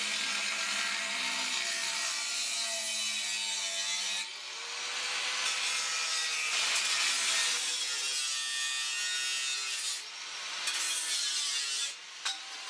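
A blade cuts through the metal body of a fire extinguisher, a loud, close, continuous grinding rasp that shifts in pitch and surges across the whole stretch without speech.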